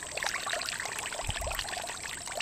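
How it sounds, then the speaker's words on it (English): Water trickling and dribbling out of a homemade crawfish trap lifted from a creek, a steady close splashy stream with a brief low splash partway through. "It's leaking water."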